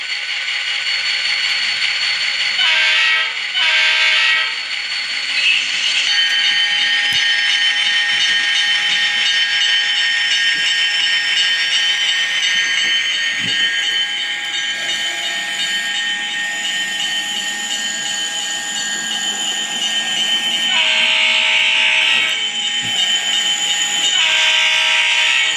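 A model BN diesel locomotive with a sound decoder throttles up, giving a steady, loud synthetic engine drone with hissing and a rising whine, briefly interrupted by dropouts from dirty track, with no talking.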